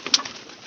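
A pigeon gives a single short, close coo over a faint background hiss.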